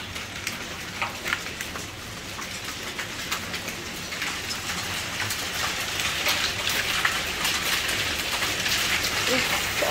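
Heavy hail pelts a garden in Ankara as a dense, continuous patter of hard impacts that grows louder and thicker over the stretch, with no voices.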